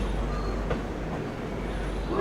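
Train pulling into Nagpur Junction railway station, a steady rumbling roar of rolling railcars with a faint squeal near the start, continuous and fairly close, no talking.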